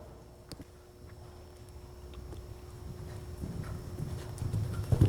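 Horse hooves clip-clop on an arena surface during a show-jumping riding clinic, with irregular thuds growing louder and closer toward the end.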